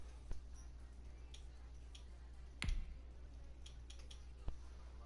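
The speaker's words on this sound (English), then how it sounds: "it's gonna hear clicking in the background because I'm trying to find this episode" Faint, sparse computer mouse clicks, three or four isolated ticks spread over a few seconds, while someone searches for an episode during a live stream.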